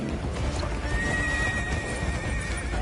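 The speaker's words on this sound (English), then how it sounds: "Horse battle. Horse duel." Horses in a video game neigh and gallop: a long, steady whinny rises above a dense, continuous rumble of hoofbeats and game noise, loud and constant, with no talking.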